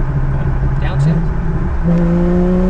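A Porsche 991 sports car downshifts on the road. The steady engine drone drops briefly, then jumps to a higher, louder rev as the lower gear engages, heard close from inside the car.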